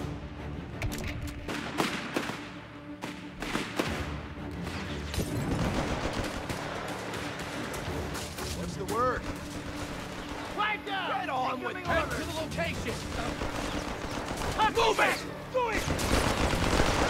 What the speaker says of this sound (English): They've got artillery on the beach.